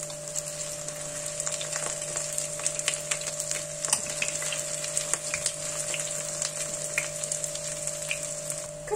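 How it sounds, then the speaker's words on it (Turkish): Crispy eggless onion fritters (mücver) frying in hot oil, a steady dense sizzle with scattered sharp pops and crackles throughout, close and continuous, with a faint constant hum underneath and no talking. "Şimdi mücverleri önlü arkalı kızartıyorum."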